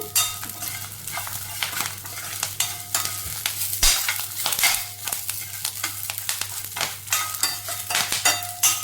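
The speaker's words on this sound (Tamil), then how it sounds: "முருங்கைக்கீரை நல்லா வதங்கி வந்துருச்சு" Drumstick leaves sautéed in a pan, a steady close sizzle of frying under frequent rhythmic scraping stirs of a spatula, continuous and fairly loud with no talking.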